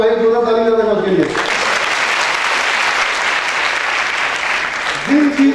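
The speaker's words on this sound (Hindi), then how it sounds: "भाई जोरदार ताली बजाएगा उसके लिए" Loud, sustained applause from an audience at a CIMAGE Patna event fills the room for several seconds, with a voice talking briefly before it begins and again as it fades.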